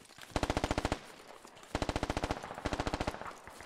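Suppressive machine gun fire in the military shooter game Squad: three sustained bursts of rapid, evenly spaced automatic shots, loud and close, with brief pauses between bursts.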